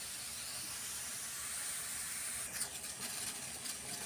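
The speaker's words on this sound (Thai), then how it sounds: "โอเคน้ำปลาใช้ได้แล้วมาต้มผักกันค่ะ" A pot of water boils for blanching vegetables, giving off a steady, dense steamy hiss. Irregular bubbling flutters appear toward the end, with no talking.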